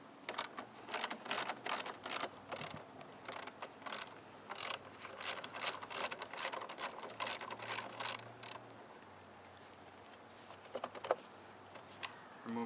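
A hand ratchet loosening bolts near the strut bar of a 2006 Acura TL, with rapid close clicking bursts repeated over several seconds before stopping, quiet and alone.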